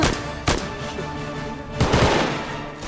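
Semi-automatic gunfire in a Roblox game, with two sharp, loud single shots about a second and a half apart, the second followed by a brief rattling tail, and no talking.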